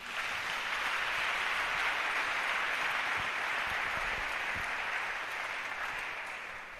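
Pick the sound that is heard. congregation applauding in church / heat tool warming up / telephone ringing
congregation applauding in church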